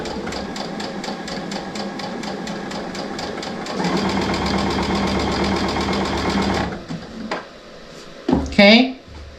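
A sewing machine chain-pieces quilt squares in a fast, rhythmic close-up hum that speeds up and grows louder midway, then stops, followed by handling clatter and a voice speaking.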